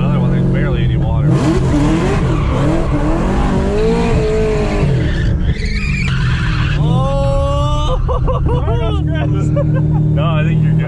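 A car's engine revs hard and drives across a grass lawn, its pitch rising and falling with tire squeal, loud and continuous while people talk over it.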